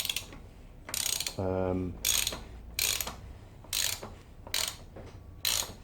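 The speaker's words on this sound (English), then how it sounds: "I might be pushing it a bit, getting it undone with this small ratchet" Small hand ratchet working loose a torqued steering-area nut on a GSXR750 motorcycle, a rapid buzzing run of pawl clicks followed by several short bursts of ratcheting with pauses between, close and clear, with a brief exclamation.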